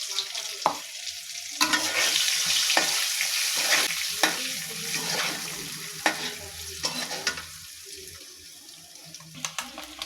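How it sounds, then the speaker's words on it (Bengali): Eggs frying in oil with salt, turmeric and chili in a wok sizzle steadily up close, broken by repeated sharp scrapes and knocks of stirring. "এই যে ডিমগুলো আমার ভালো করে ভাজা হয়ে গেছে"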